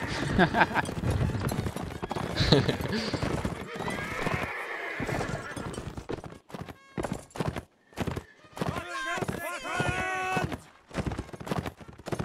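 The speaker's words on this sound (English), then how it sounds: "He's just warming the horses up." Horses in a video game gallop with rapid clip-clopping hooves and repeated neighs and whinnies, while several players chat and laugh over the top of the action.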